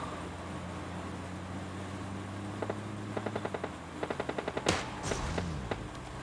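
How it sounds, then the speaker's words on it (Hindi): Gunfire in PUBG Mobile Lite, with short rapid bursts of automatic shots and a few single cracks at middle distance over a steady background hum, followed by a sharp louder blast near the end. "तभी मुझे कुछ साउंड सुनाई दी गन की"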